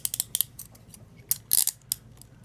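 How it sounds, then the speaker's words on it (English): A cutting tool snips through the locking teeth of plastic handcuffs during fire-service cuff removal, a string of crisp, close clicks and snaps in uneven quick succession. "I'm going to cut right here at the teeth part of the locking mechanism"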